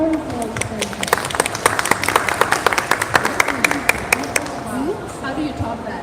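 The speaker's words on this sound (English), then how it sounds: "Please welcome her with a big applause." An audience at an event applauds to welcome a woman to the floor, a crowd of hands clapping steadily with sharp individual claps standing out, and a voice speaking over the clapping.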